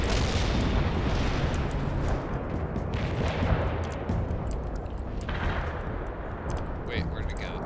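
Artillery fire in the real-time strategy game World in Conflict rumbles and booms in a dense, continuous barrage with scattered sharper cracks, moderately loud, while a voice speaks now and then.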